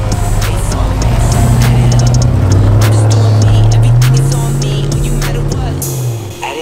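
A car pulls out of a driveway, its engine loud and close with a rising, shifting drone as it moves off, plus clicks and rattles over the top.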